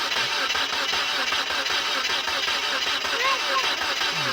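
A Mazda Verisa with a no-start fault cranks over steadily, a continuous mechanical churning held at an even level throughout without the engine catching.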